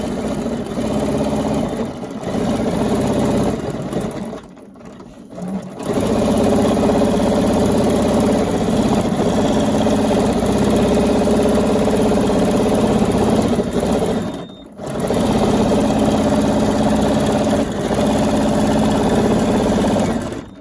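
A sewing machine runs at a steady mechanical hum while quilting, stopping briefly twice before starting again, continuous and close with no voices.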